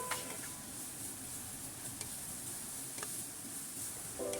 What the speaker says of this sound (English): And then we add in the LoBok strips. Stir, stir fry.